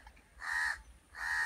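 A crow near its nest in a jamun tree gives two loud, close caws about half a second each, separated by a short pause, with no other sound around them.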